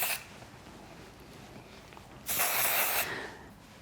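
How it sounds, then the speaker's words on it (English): Hairspray hisses onto hair at the roots and ends: a faint brief spritz near the start, then one loud, close, sustained spray burst lasting under a second, with quiet handling in between. "we'll just spray this on kind of at the roots and at the ends."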